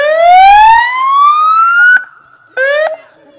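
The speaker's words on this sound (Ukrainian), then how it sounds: "У скількох режимах працює сирена" A police car siren sounds loud and close, first a long rising wail, then a short drop and a brief second rising burst that cuts off sharply.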